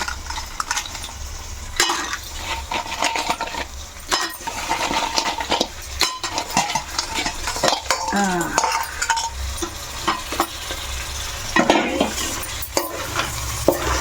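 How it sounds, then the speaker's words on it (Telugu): Cleaned crabs tipped into a pan of fried chili oil masala and stirred, with loud close sizzling, scraping of a spoon and clinks against the metal pan throughout. "ఇంకా ఇప్పుడు పీతలు వేసేసుకుందాం శుభ్రంగా కడిగి పెట్టుకున్న పీతలు"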